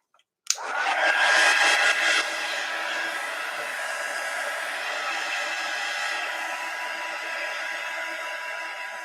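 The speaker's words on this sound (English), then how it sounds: "we're going to sort of chase it around with the heat gun" A heat gun switches on with a sharp click and then blows hot air in a loud, continuous rush over a craft collage. The rush surges for the first couple of seconds, then settles into a steady roar.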